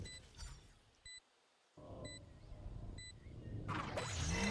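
Killjoy's alarm bot being deployed in Valorant, a short series of high electronic beeps repeating about once per second over game noise and footsteps.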